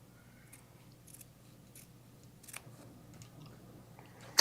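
Scissors snip through fabric around the seam of a pair of boy shorts, a string of quiet, close cuts at an uneven pace, with a sharper click at the end.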